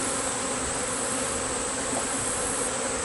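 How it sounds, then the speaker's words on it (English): A steady, dense buzz of many honeybees flying close by during a hive inspection, a constant droning swarm without pause. "Shake the bees off. They go crazy."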